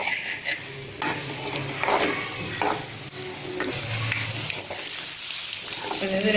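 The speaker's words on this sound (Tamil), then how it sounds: "எக்கை செய்யறதுக்காக ஒரு 2 மினிட்ஸ் சிம்மில் வச்சுட்டு அப்பப்போ அந்த மாதிரி கிளறி விட்டுக்கோங்க" Egg podimas with onion fries on low heat in a pan, giving a soft steady sizzle broken by repeated scraping strokes of a spatula stirring it, close and fairly loud.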